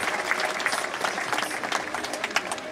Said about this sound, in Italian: Un applauso, grazie pubblico per questo momento importante.